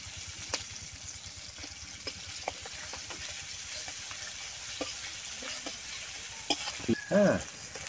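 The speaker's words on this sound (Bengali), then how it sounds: "তাই পেঁয়াজটা একটু ভালো করে ভাজি করবো" Chopped onions fry in oil in a wok with a soft steady sizzle and repeated light stirring taps. Near the end come a few louder knocks and a short voiced sound.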